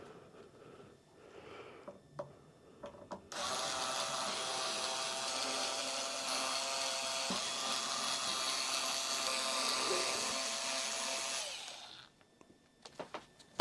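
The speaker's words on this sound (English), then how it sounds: "I'm going to remove the screws for the pickguard." A power screwdriver backs out the pickguard screws on a Solar T-series guitar, a steady close whir lasting about eight seconds, with quiet handling taps before and after.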